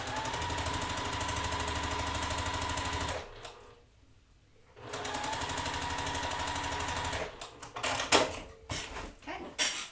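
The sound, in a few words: sewing machine stitching quilt seams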